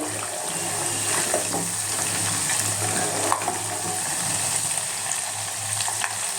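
Milk cream cooking down into ghee in a pan over a gas flame bubbles and crackles steadily, with a continuous close sizzle and scattered sharp pops throughout.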